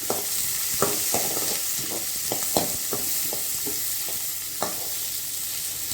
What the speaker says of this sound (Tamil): பெரிய வெங்காயத்தையும் சேர்த்துக்கலாம் இதை லேசாக வதக்கிக்கலாம்